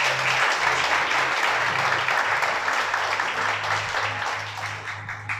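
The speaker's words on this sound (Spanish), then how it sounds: "Vamos a darle un aplauso a nuestro Creador" A church congregation applauding during a Sabbath service, dense sustained clapping from many hands filling the room, loud at first then slowly tapering, with faint voices beneath.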